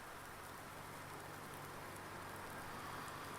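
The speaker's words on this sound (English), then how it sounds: "it's been raining" Rain in the Farming Simulator 19 video game, a steady, even hiss of falling drops that holds at a constant low level throughout, with no voices.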